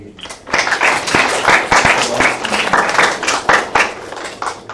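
Seminar audience at a cardiovascular imaging AI talk clapping to welcome a speaker, a close, lively burst of many hands with distinct individual claps and thuds, sustained and fairly loud throughout.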